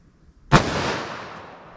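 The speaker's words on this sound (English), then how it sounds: "Let's see how close we get to 1450 feet per second with the 357 Magnum" A single sharp report from a .357 Magnum revolver fired at a ballistic gel test. The one loud, close crack is followed by a long, fading echo.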